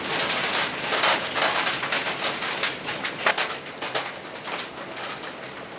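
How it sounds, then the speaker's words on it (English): Hail falls in a dense, rapid clatter of sharp ticks and patters, loud and close, continuous with uneven bursts of heavier impacts throughout. "How is it cold enough to hail?"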